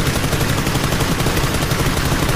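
Dense, continuous bursts of automatic gunfire from the battle royale game PUBG, loud and close, crackling without pause across the whole moment.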